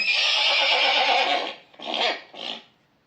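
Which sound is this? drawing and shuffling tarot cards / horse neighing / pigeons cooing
horse neighing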